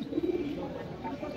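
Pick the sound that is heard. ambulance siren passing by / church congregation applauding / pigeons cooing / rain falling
pigeons cooing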